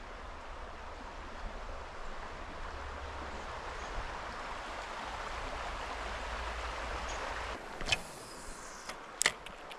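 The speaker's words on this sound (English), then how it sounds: "We came across this little creek." A small creek in Oregon flows in a steady, close rushing babble of water, with a few brief handling knocks and clicks near the end.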